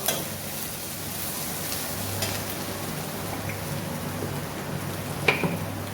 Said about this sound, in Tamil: வெங்காயம் இந்த அளவுக்கு நல்லா வதங்கட்டும்